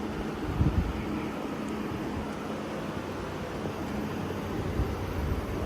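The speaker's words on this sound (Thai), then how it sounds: "มีแต่เสียงพัดลม ตรงนี้ อย่างเดียว" An air conditioner fan runs inside a motorhome, a low, steady broadband whir that holds even and fairly quiet throughout, with no other sounds standing out.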